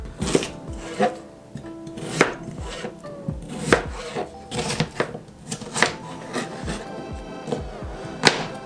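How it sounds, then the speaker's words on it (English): A knife chops potatoes on a cutting board with irregular, fairly loud thuds, close up, and faint rustling between the cuts. "So while cutting that up, I realized that was a lot of potatoes"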